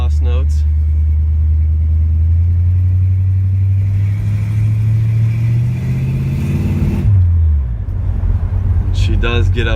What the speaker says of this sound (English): You can hear those beautiful exhaust notes.